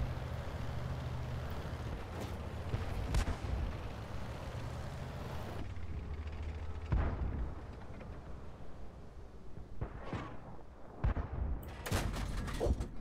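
Tank cannon fire in World of Tanks with a KV-1 in play: several loud, sharp booms spaced across a continuous rumbling engine and battlefield noise, closer and heavier blasts near the end.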